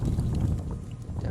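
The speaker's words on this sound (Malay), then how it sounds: "Ni ada angin." Wind blowing outdoors at night sets off a steady low rumble and buffeting against the microphone. It stays continuous and fairly loud across the short stretch, with no voices.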